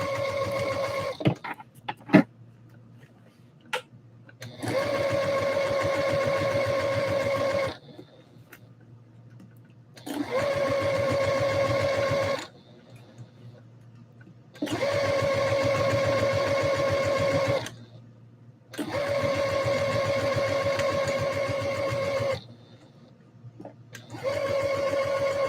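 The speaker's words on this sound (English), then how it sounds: "Back to the serger." A serger overlock sewing machine runs in four long, loud bursts of steady whirring, separated by short quiet gaps with faint handling clicks, working through Etsy orders.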